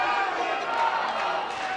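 A jiu-jitsu match crowd between Royler Gracie and Eddie Bravo murmurs and rises into a steady, building chant, a dense wash of many distant voices filling the arena.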